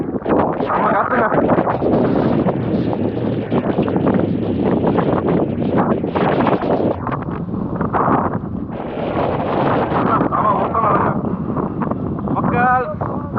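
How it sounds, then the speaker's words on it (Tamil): Strong wind buffets the microphone on the Mandalpatti hilltop in Coorg, a loud, gusting roar that rises and falls throughout while someone talks over it. "என்னமா காத்துறீங்க பார்த்தீங்களா? பயங்கர காத்து சரிங்களா?"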